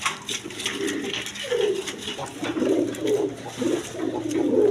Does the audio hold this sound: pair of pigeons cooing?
yes